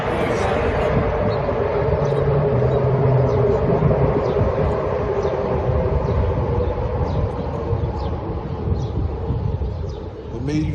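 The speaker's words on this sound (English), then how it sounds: "Sorry about the train." A train passes close by, a loud, steady rumble with rattling wagon noise that holds through the whole stretch and eases slightly near the end, with no talk over it.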